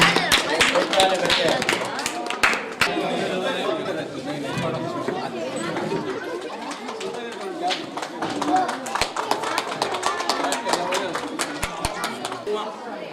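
A school day function with a large crowd of children clapping loudly and continuously, dense chatter mixed in throughout with sharp individual claps standing out.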